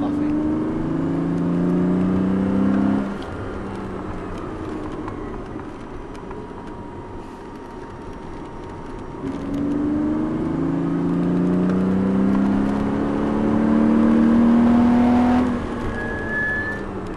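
A car laps a race track, its engine whirring loudly as it brakes and corners, with two rising acceleration passes separated by a quieter stretch off the throttle, heard continuously and close.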